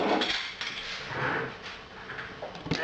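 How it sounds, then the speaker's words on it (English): A lid is set onto a beer brewing vessel on a stout kit brew day, a few close metallic clanks and scrapes ending in a sharper knock. "Get the lid on"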